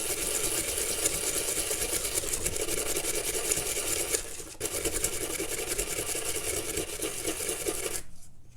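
A brush scrubs a Leatherman multitool in mineral spirits, a continuous close rasping scrub with brief pauses near the middle and end.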